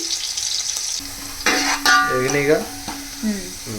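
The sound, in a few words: onions frying to golden brown for chicken pulao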